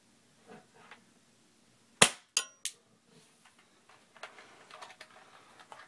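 An airsoft gun fires at a sack doll, three sharp, loud snapping shots in quick succession, followed by softer scattered ticks and rattles of pellets hitting and bouncing.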